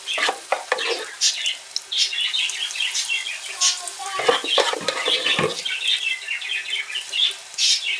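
An egg snack fries in a pan over a low flame, giving a steady close sizzle broken by scraping stirs and clicks of a utensil, with no one talking.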